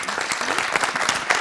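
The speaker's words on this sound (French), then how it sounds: "On peut l'applaudir." Audience applause at a TEDx-style talk event in 2021: a short, full burst of many hands clapping together, busy and continuous, with no voices over it.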